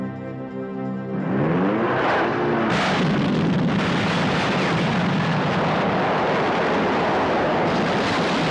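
An explosion erupts after a brief quiet moment and swells into a loud, sustained roaring rumble that fills the rest of the clip.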